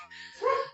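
A single short dog bark from the SNES game Terranigma, clear and moderately loud with no voices.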